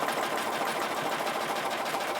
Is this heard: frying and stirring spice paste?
no